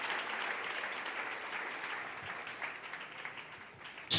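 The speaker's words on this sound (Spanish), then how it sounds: "Dale ese aplauso al Señor en esta preciosa noche" A church congregation applauding during a sermon, a dense, even wash of many hands clapping at moderate distance that slowly fades before an abrupt loud burst at the end.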